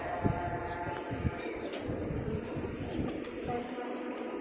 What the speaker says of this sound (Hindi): 160 कबूतर हैं दोस्तों ये।